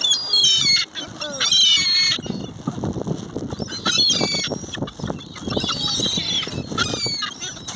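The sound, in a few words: swans squawking while being fed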